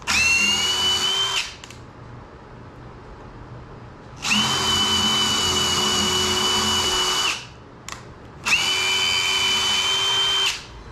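A power screwdriver drives screws during a quick one-day woodworking build, whirring loudly in three sustained bursts of about three seconds each, separated by short quiet gaps, with no talking.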